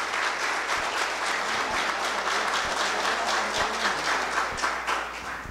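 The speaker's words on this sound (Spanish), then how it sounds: "La recibimos con un fuerte aplauso" Steady applause from a large crowd fills the room, a dense continuous patter of clapping with no pauses.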